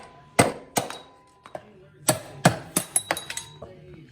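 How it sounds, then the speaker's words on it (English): A hammer tapping a flathead screwdriver to drive out steering bearing races on a 2019 Honda CRF110 motorcycle: sharp metallic clinks in an irregular series, some spaced apart and a quicker run of lighter taps toward the end, close and loud. "you're going to take a flathead screwdriver and a hammer and evenly move around the base of that bearing flange, tapping as you go"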